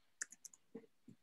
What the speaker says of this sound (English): Marishi typing away some numbers there too.